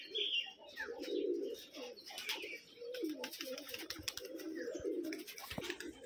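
Bilas line tumbler pigeons coo close by in soft, repeated low calls, with light chirps and a brief flutter of wings mixed in.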